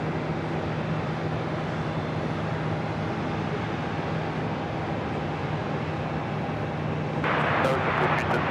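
KLM Boeing 787-10 Dreamliner airliner on arrival at JFK Runway 4 Right, a steady broad roar of jet engines heard from a distance that holds throughout and swells slightly near the end, with no voices.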